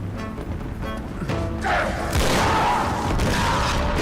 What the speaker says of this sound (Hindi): वो ग्रेनेड इतना खतरनाक था इसका कि मैं आगे कूद भी गया